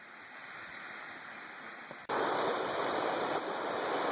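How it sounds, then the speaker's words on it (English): Man-made geyser fountain at a North Carolina campground gushing water, a steady rushing hiss that jumps abruptly louder halfway through and keeps pouring. "It's like a big man-made fountain, but it's pretty cool."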